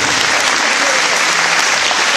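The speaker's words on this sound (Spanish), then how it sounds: "Yo quiero que todos los puesteros, que todos la aplaudamos" Crowd of stall vendors at a family festival applauding a ten-year-old girl, loud dense clapping from many people sustained evenly throughout, close and unbroken.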